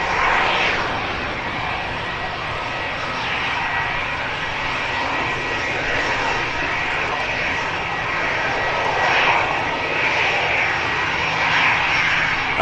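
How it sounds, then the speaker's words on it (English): A Scandinavian Airlines Airbus A320neo jet departs for Oslo, its engines giving a loud, steady roar that fills the whole stretch without letting up. "Scandinavian off to Oslo, A320neo."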